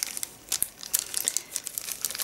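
A small plastic bag holding wooden easel wedges crinkles and rustles up close in quick, uneven bursts of crisp crackling.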